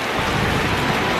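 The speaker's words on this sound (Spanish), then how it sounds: "Está lloviendo mucho." A heavy tropical downpour in Thailand makes a loud, dense, even roar of rain beating on surfaces, close by and unbroken for a moment.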